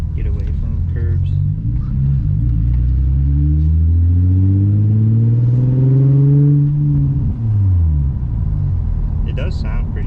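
Deep, loud exhaust from an Infiniti G35 with resonated test pipes, two resonators and a muffler. The engine revs up in rising sweeps, holds high, then drops back toward idle, with voices heard faintly.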